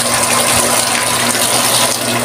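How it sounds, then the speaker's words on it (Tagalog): An automatic water pump draws water in a loud, continuous rush with a steady motor hum beneath it, close and unbroken. "higop na siya ng tubig guys"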